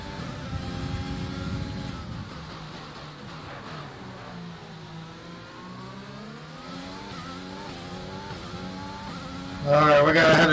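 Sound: race car accelerating back to racing speed, from a video game

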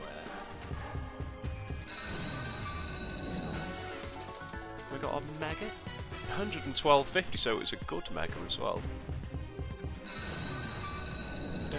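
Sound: phone ringing

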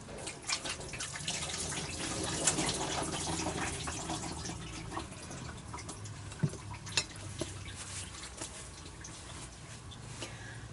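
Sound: water poured into cooking pot

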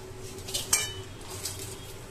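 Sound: stirring semolina halwa (suji) in a pan

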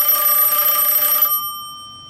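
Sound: Western Electric Bell System M1A internal telephone ringer ringing

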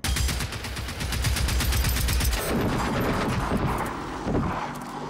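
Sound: gunfire from video game Generation Zero

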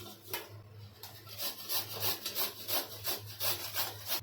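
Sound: grating raw mango on a coconut grater

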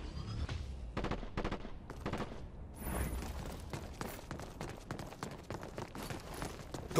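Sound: gunfire in Dirty Bomb video game

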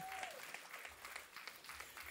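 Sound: applause for Omar at a birthday celebration

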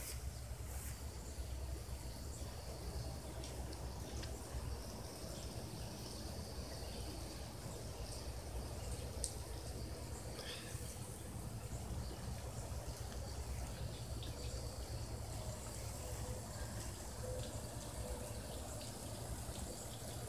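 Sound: water running from a garden hose

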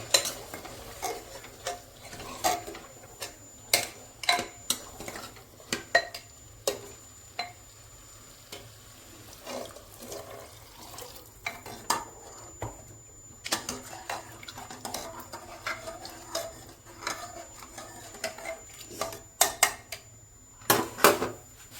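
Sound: stirring cut potatoes and chickpeas into spiced oil in a pot

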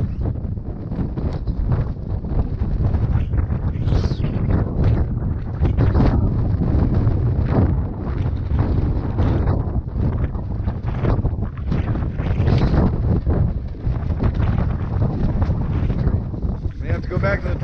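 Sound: strong wind gusting around greenhouse

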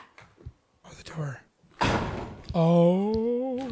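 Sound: door

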